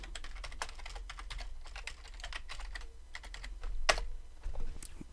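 A password is typed on a computer keyboard in a quiet room, a quick run of light clicking keystrokes with a few heavier taps near the end.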